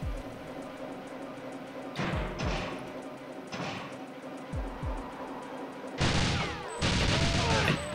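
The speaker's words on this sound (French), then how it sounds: "Ah, je vois qu'on me tire dessus pareil." GoldenEye 64 gunfire crackles in several bursts, single shots and then a dense rapid volley near the end, loud game sound effects with no voices.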